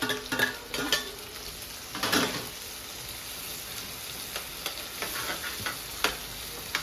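Tomatoes and onions stirred and frying in a pan, with a low steady sizzle under repeated scraping and stirring strokes, fairly close, and no talking.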